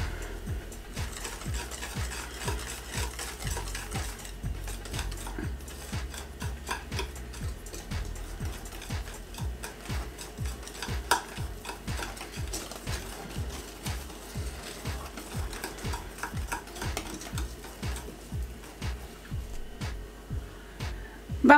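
Greek yogurt cake batter, with a sachet of baking powder just added, is whisked by hand in a bowl: steady, regular clicking strokes repeat for the whole stretch at close range, with no voices.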